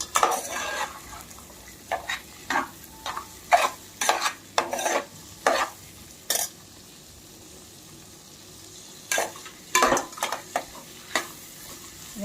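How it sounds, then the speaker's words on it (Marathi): Vegetables including potato and capsicum frying for veg pulao as a spatula stirs them, bursts of scraping and clattering against the pan coming in irregular clusters over a low, steady sizzle, with quieter gaps between. "आपण या भाज्या हलवून घेऊया व्यवस्थित"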